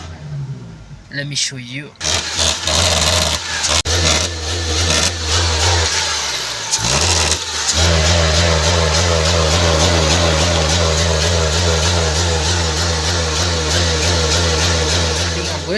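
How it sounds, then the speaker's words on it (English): A car engine with a faulty mass air flow sensor revs while struggling to accelerate, a steady loud drone that surges and dips, with someone speaking briefly near the start. "Let me try to accelerate."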